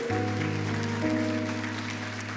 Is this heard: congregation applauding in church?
yes